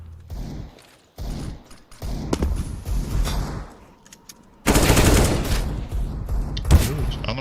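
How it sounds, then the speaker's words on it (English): Rapid gunfire volleys and a grenade blast from a Counter-Strike esports match, loud bursts in dense clusters with a heavier sustained stretch in the second half, while a commentator talks throughout. "So the nade coming through, scout as well, still trying to just get off a few more volleys if he can."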